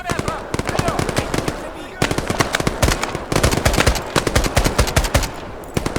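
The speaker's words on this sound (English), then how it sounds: "We are off to having a proper firefight." Rapid automatic gunfire in a video game firefight, with dense, loud bursts of rattling shots crowding each other almost without pause and brief breaks between volleys.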